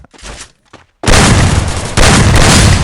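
After a second of muffled game noise in a first-person shooter, a loud thrown grenade explosion erupts, followed by a second blast a moment later.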